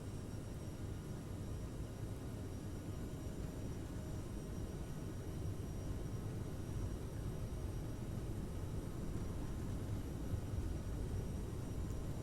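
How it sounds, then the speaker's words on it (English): Steady, loud broadband roar of CRJ 900 jet engines spooling at takeoff power in Microsoft Flight Simulator, a constant rumbling hiss without pauses and no voices. "Toga power on throttle, and we should take off in a few"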